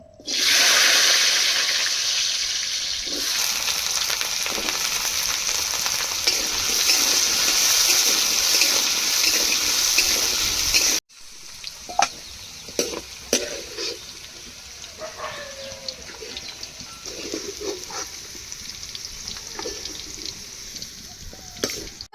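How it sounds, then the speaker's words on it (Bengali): Potatoes hiss and sizzle loudly in hot oil for a Bengali fish-head muri ghonto, a steady dense crackle that cuts off abruptly, giving way to quieter scattered sizzling and light clinks. "এবার আলুগুলো একটু ভেজে নেব।"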